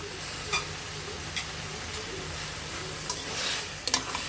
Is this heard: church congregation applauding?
no